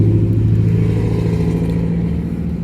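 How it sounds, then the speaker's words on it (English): A loud truck drives past a house, heard as a steady, loud, low engine rumble that fades slightly toward the end, with no speech over it. "everybody's got to drive their loud truck past the house when I'm trying to record"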